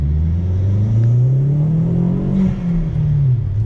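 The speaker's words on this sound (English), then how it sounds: "you are getting that louder sound that a lot of people like from their inline four turbocharged" A Chevrolet Sonic's modified turbocharged inline-four exhaust drones loudly and close by, its pitch rising and falling as the engine revs up and eases off.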